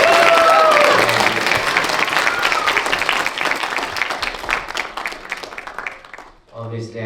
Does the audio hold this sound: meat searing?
no